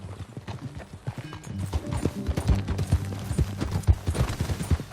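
Horse hooves clip-clop steadily in Red Dead Redemption 2, a rhythmic trotting gait running throughout, close and moderately loud, with occasional snorts and light game ambience beneath.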